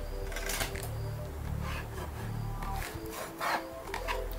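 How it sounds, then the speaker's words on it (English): Scrapbook paper burnished by hand, close soft rubbing and scuffing strokes over paper in short bursts, with a low steady hum in the background. "Burnish it properly."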